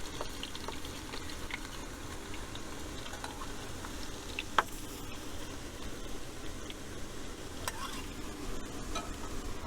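Chopped garlic sizzles in very hot oil in a pan for a vegan Alfredo sauce. It makes a steady, close hiss throughout, with one sharp click midway.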